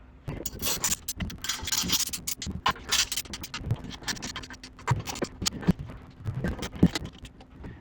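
Bolts tightened on the cylinder head of an Elva engine, with close ratcheting, metallic scraping and clinks of tools in irregular bursts and short pauses.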